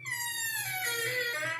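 An automatic door opens with a synthetic sound effect at a higher-altitude location, giving a steady, bright, tonal whine with stacked harmonics that shifts pitch partway through and holds to the end.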